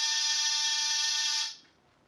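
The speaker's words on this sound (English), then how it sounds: "I rang one buzzer." An apartment door buzzer in an old-time radio drama gives one sustained, loud electric buzz lasting about a second and a half, then cuts off, leaving quiet.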